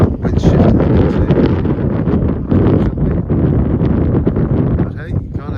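Strong wind buffets the microphone on the North Cornwall coast, a loud continuous roar with gusty surges, no voice.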